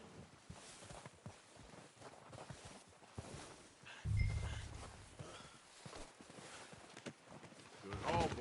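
Horse hooves clip-clop at a steady walking pace in Red Dead Redemption 2, a rhythmic clatter of steps with a louder thump partway through, while voices talk over the scene.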